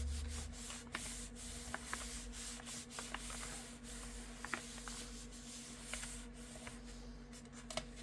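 Steady dry rubbing and scraping of a tool over paper card during handmade card making, with faint scratchy strokes and small taps, close and continuous at low level with no talking.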